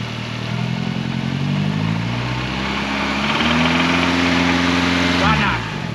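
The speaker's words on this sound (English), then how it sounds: "That's a rod knock. As the car's warming up, it's getting louder." A car engine with rod knock runs with a steady low knocking rumble, growing louder as it warms up, its pitch rising and then dropping as the revs change near the end.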